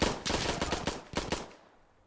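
A rapid burst of gunfire from the video game Insurgency Sandstorm. About eight close, loud shots fire in quick succession, then a short pause and a few more before the sound decays into a fading tail.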